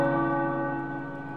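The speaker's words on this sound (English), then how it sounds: "The tower bells are ringing." Tower bells ringing in Marvel Midnight Suns, a single loud sustained bell tone with rich ringing overtones that slowly decays over a second or so.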